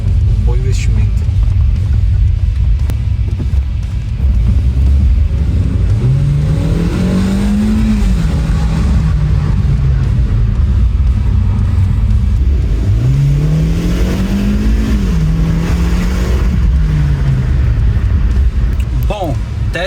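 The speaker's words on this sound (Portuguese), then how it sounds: "só acelerar um pouco a coisa pra gente ver se vai falhar de novo e testar" A Hyundai Creta bought at auction revs through two clear acceleration pulls on a test drive, engine pitch climbing and falling under a loud, steady cabin drone with road noise.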